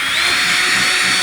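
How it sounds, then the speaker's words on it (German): An electric drill bores holes for a Märklin H0 model railway track helix, a loud, close, steady high whine that runs unbroken through the moment. "Und dazu bohre ich von der Rückseite einfach schön"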